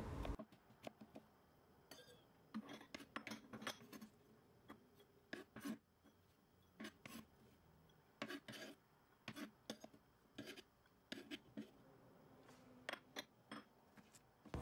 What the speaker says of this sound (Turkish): Bir diş de sarımsak doğruyorum